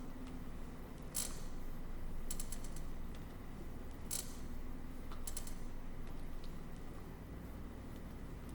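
A chest press exercise machine working through repetitions, with a steady low mechanical hum and drone throughout, punctuated by a few brief clicking, creaking metallic ratchet-like sounds at irregular intervals, no talking.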